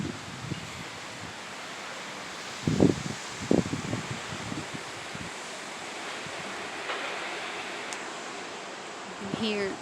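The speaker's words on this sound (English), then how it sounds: "then suddenly you get this huge gust." A strong wind gust during a September windstorm rushes through a backyard peach tree and nearby trees, steady rustling roar with a few sharper knocks and flaps of things blown around.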